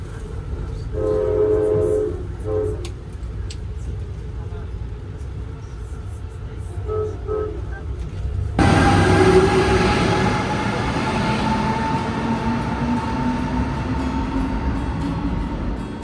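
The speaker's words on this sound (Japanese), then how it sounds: "それじゃあアムトラック乗ってきます。" Rumble and rattle of an Amtrak train, heard from inside a nearly full passenger car, with people talking over the steady low roar before the noise swells and holds loudly to the end.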